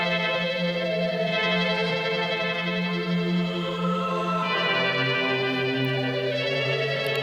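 A thick, sustained synth pad from an electronic beat swells continuously and loudly, its layered chord tones shifting to a new harmony midway through, steady and unbroken with no voices.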